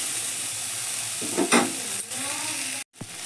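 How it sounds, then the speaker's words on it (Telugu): Green chillies fry in a pan with a steady, close hiss of sizzling oil, broken by a couple of stirring scrapes and a brief gap near the end. "పచ్చిమిర్చి కూడా మంచిగా వేగినాయి"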